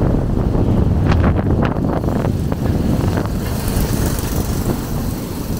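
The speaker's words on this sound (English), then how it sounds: "Because the wind is blowing," Gusty wind rushes steadily across a beach, roaring into the microphone with a continuous broadband hiss and faint gritty patter of blown sand, loud and close with no speech.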